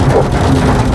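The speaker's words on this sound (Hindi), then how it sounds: "तेज बरसात शुरू हो गई है" Heavy rain pouring during a stormy spell on the Agra University campus, a loud, dense, continuous roar close by with no talk.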